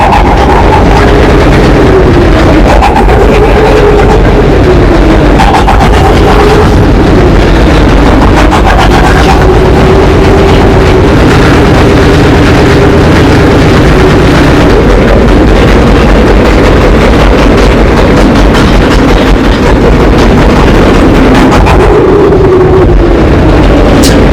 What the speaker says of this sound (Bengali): ট্রলার দিয়ে যাচ্ছি